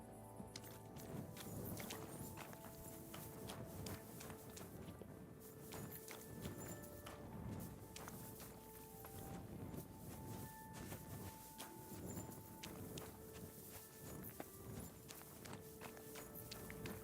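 Horse hooves clip-clop steadily in the Kingdom Come Deliverance II video game, a quiet, continuous walking rhythm mixed with soft ambient game sound.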